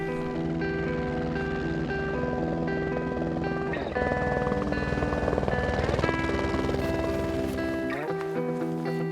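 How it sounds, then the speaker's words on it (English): Helicopter in flight near Deer Lake, Newfoundland, carrying a passenger toward a remote hunting base camp: a loud, steady rotor thump and engine whine held close and continuous throughout, with a brief swell midway. "The short helicopter ride from just outside Deer Lake would take Kevin into Grand Lakes Adventures Base Camp"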